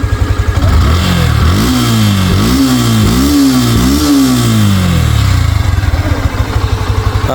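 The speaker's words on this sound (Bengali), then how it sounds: "দেখেন গাড়িটা কিন্তু স্টার্ট করেছি" A Yamaha FZS V2 motorcycle engine runs loudly up close, revving repeatedly in several rising-and-falling surges before settling back to a steady idle.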